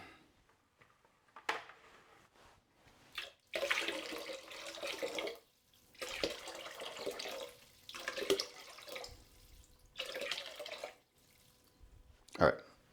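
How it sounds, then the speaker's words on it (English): Water poured or run into a bucket in a pottery studio while mixing clay slip, coming in several separate bursts of splashing between quiet pauses, with a final short sharp clatter. "I'm measuring out the water"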